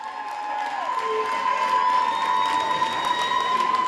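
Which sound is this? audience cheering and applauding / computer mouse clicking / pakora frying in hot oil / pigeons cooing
audience cheering and applauding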